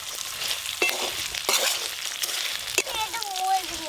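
Onions and mutton with cauliflower fry in a pan, giving a soft, steady sizzle broken by a few scraping stirs, with faint voices in the background.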